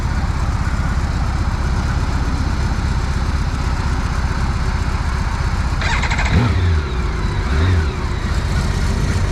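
BMW K1600 inline-six motorcycle engine running loud and steady at close range, then blipped in a sharp rev around the middle before settling back to a smooth idle.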